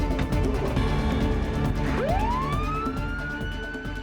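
An ambulance siren starts up midway as the ambulance departs, rising into a long wail over rumbling traffic and a steady ticking.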